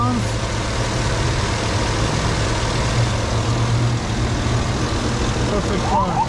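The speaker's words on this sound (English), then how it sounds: "You can listen to the engine, how they run." A 2014 Cadillac Escalade Platinum Edition AWD with a 6.2L V8 idles with a steady, even low rumble that holds constant throughout, close and moderately loud.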